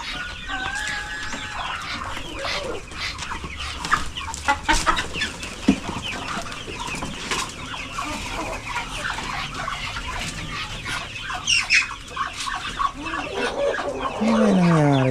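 Farmyard chickens clucking steadily on a Philippine farm that also keeps turkeys, with busy overlapping clucks and squawks throughout and a rooster crow rising near the end, loud and close.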